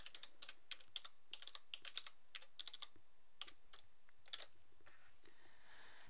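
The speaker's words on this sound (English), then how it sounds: "Confirm your password by typing it again." A password is typed on a computer keyboard in quick, close, irregular bursts of light key clicks that slow and then fade out toward the end.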